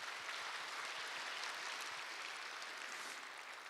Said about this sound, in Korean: 동산의 가족이 되신 분들께 마음을 담아 박수로 환영하겠습니다.